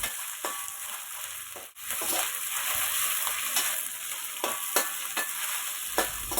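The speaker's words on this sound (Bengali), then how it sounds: "ভাজার পর চিকেনগুলো এর মধ্যে দিয়ে ভেজে নিব।" Chicken pieces fry in ghee with chopped garlic, a dense steady sizzle with periodic stirring scrapes and taps of a spoon against the pan, no talking.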